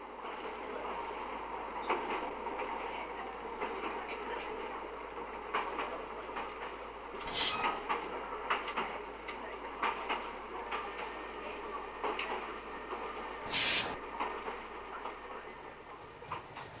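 A steam tram rumbles along rails with a continuous low drone, rattles and a few sharp squeals or hisses, rolling steadily past without any talking.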